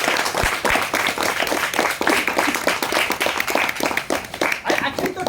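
A meeting audience gives a Toastmaster a lively round of applause as they are invited on stage, with dense continuous clapping close by, fairly loud and unbroken.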